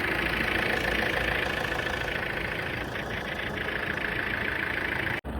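A 2014 Fiat Freemont's 2-litre diesel engine idles in a steady, even drone with a low rumble, close by and uninterrupted, ending with a brief click.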